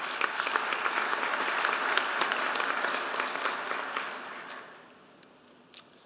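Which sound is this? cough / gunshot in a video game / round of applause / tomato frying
round of applause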